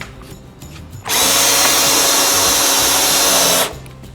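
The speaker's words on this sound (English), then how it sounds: "and then you're gonna screw that one in." A power drill drives a screw into the wooden frame under a sink's flange on an old thrift table being turned into an outdoor bar. One loud, close, steady whir of about two and a half seconds sits between quieter handling sounds.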